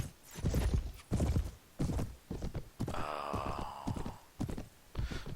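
Hooves of a heavily armored Neverville Charger warhorse clip-clopping in steady rhythm in the Mount & Blade Prophesy of Pendor game, with a horse whinny partway through, loud and close.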